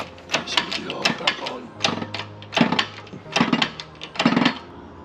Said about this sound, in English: Now we're gonna take a hammer and a screwdriver and make sure it's okay.